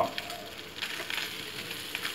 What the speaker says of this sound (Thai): วันนี้ครับแม่ก็จะเจียว น้ำมันหมูครับ